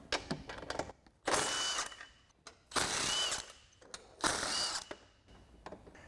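A ratchet wrench with a 15mm socket clicks in three separate bursts while removing bolts from a front bumper on a 2021-2024 Ford Bronco, close up with quiet gaps between the bursts.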